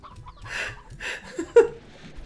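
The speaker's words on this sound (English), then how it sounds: "Look at all the hens!" Hens in the Slime Rancher video game give a few short clucks, ending in one sharper, louder squawk, with little else around them.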